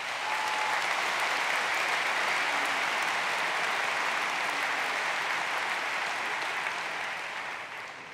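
Steady, dense audience applause fills a general meeting hall, sustained at even loudness for the full stretch before tapering slightly at the end, with no voices over it.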